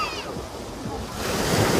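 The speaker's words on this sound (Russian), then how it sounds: "Небольшая волна." Gentle small sea waves wash steadily onto a beach at Lazarevskoye, a soft continuous rush that swells slightly louder toward the end, with faint voices in the background.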